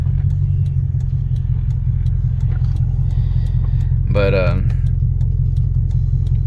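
A car with a Toyota 1UZ-FE engine rumbles steadily on the road with a loud, constant low drone, while someone says a word over it partway through.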